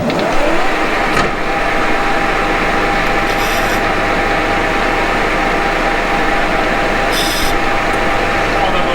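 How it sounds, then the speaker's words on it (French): A lathe takes a 2 mm roughing pass while boring a bore with coolant, giving a steady broadband scraping hiss throughout, two brief bright metallic bursts, and a low machine hum beneath. "On prend d'abord une passe de 2 mm."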